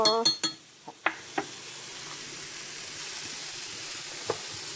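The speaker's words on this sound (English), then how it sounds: "I'm gonna give this another stir because it kind of settled." Cauliflower fried rice sizzles steadily in a hot pan while a spoon stirs it, with a few sharp clinks and scrapes against the pan at the start and scattered taps later over the continuous frying hiss.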